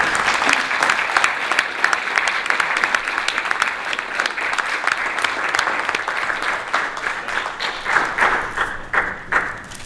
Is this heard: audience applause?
yes